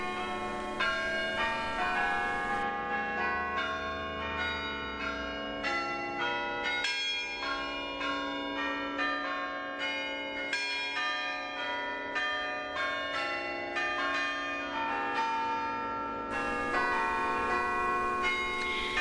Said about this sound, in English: The chimes are high in the church tower, in the uppermost of 3 tower rooms.